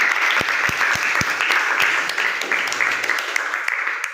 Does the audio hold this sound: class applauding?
yes